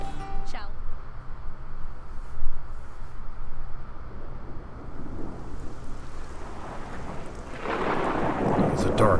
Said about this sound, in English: It's a dark and stormy night.